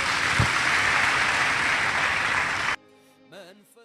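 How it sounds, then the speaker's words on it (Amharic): Audience applauding at a church youth program, a dense steady wash of clapping for most of the stretch before cutting off abruptly, followed by brief quiet music. "አጨብጭቡለት"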